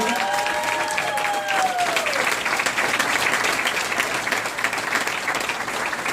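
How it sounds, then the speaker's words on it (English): A summit audience gives a sustained round of applause, a dense steady roar of many hands clapping throughout, with a faint voice briefly audible early on. "give her a round of applause"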